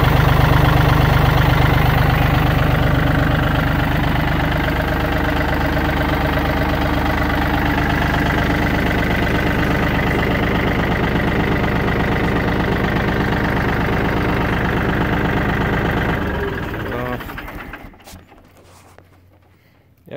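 Yanmar F255D compact diesel tractor with 2100 hours idling nearby, a steady low rumbling throb that holds evenly before the engine is shut off and dies away near the end.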